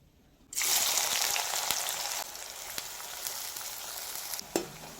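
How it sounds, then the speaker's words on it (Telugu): Chopped onions dropped into hot oil burst into a loud, steady sizzle that eases slightly as they fry, with a few brief stirring clinks near the end. "ఆనియన్స్ వేయించుకుందాం"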